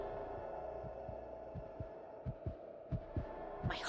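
Heartbeat sound effect for an audio drama: low, muffled thumps in a steady paired rhythm that grow louder and closer over a faint background hum, with no voices.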